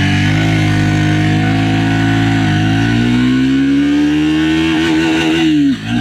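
A Triumph motorcycle engine revs hard at full power in first gear, a loud, steady rising drone climbing in pitch for several seconds before abruptly dropping off near the end.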